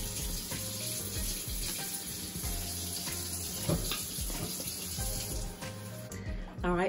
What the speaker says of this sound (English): I'm gonna go ahead and I'm gonna rinse these out